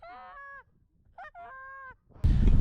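Geese honk in the field during Minnesota's September goose season, several loud harmonic calls in a short sequence followed by a burst of broadband noise.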